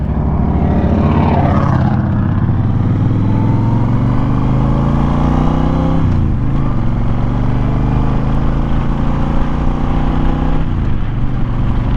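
A Honda Fury cruiser motorcycle rides along the road, its loud engine droning close and continuously and dipping in pitch at a few gear shifts before climbing again.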